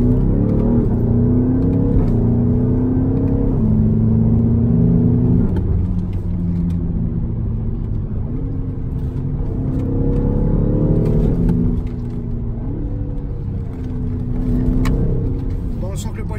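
BMW X6 M on the road with its exhaust valves open, the engine droning steadily and loudly as it rises and falls with repeated revs and gear changes. Someone talks inside the car over the engine.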